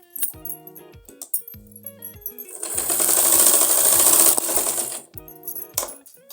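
A sewing machine stitching a belted salwar with double stitching. Close, loud mechanical clatter comes in short bursts, with a sustained, louder whirring run in the middle before it drops back to intermittent stitches.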